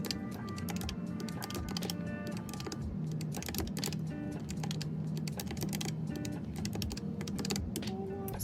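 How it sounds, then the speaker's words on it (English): Fingers punch numbers into a calculator while totaling a budget, a steady run of small plastic key taps at an even, brisk pace, close and moderately quiet, with no voices. "let me grab my calculator just to check"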